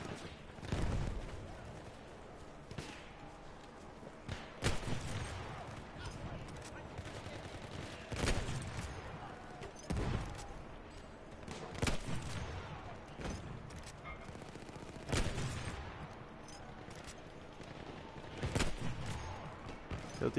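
Burst-fire shots ring out in Battlefield 1 as fairly faint, spaced volleys, sharp short bursts every couple of seconds over a steady battlefield din.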